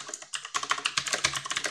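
Steady, close typing on a computer keyboard while editing an Emacs Org Mode document, a brisk run of crisp key clicks with no talk over them.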